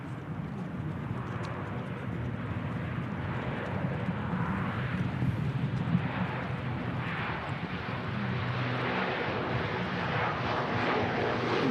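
Flybe turboprop airliner on its takeoff roll at Manchester Airport, a steady broad roar of propeller engines building and holding at a distance, with no talk over it.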